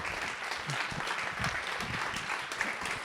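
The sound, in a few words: audience applause welcoming Nathalie Péchalat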